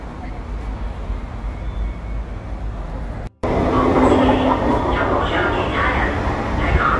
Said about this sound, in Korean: 자, 여기 대학역에 도착을 했고요. 네, 저는 여기서 이제 전철을 타고 집에 갈 예정입니다.